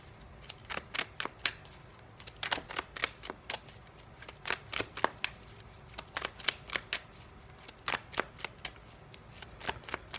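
Tarot cards being shuffled by hand during a live reading, a run of crisp riffling bursts and soft slaps in irregular clusters across the whole stretch, close and fairly quiet with no talking.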